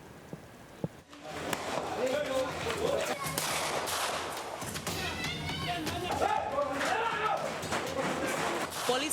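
Police fire gunshots into the air during a drug raid in a Medan neighbourhood in North Sumatra, a sharp crack early on followed by chaotic noise, shouting voices and running amid the commotion.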